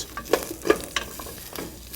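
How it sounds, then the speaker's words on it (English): Bitter melon and fenugreek seeds frying in a pan, a quiet sizzle broken by a few soft stirring scrapes and taps at close range. "So these have been pan frying now for about 5 minutes."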